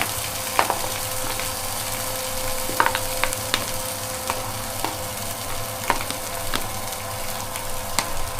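Broccoli hits a hot frying pan and sizzles steadily, with occasional light clinks and stirring scrapes over the constant hiss; no one speaks.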